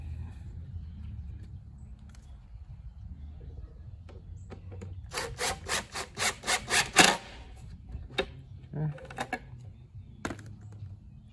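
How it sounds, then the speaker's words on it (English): Wood screws 1¼ inch long being driven into a wooden giraffe-shaped bookshelf, heard as a burst of rapid rhythmic grinding pulses in the middle, followed by scattered clicks and scrapes over low room rumble. "I'll screw it in."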